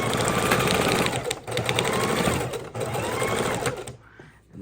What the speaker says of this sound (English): My sewing machine just wants to go crazy on this table.